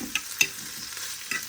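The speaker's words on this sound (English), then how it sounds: "Alright, so we got some bacon frying." Bacon fries in a pan with a soft, continuous sizzle, punctuated by a few sharp clinks and stirring ticks, close up and without any talk.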